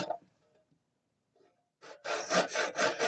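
A hand saw cuts wood in several quick, rasping back-and-forth strokes close by, after a few soft taps and a near-silent pause.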